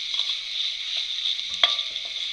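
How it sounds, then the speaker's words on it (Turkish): Onions and tomato paste frying in a pot while being stirred, a bright continuous sizzle with a brief scraping stir partway through, close and fairly loud. "Biraz da salça ile beraber çevirelim."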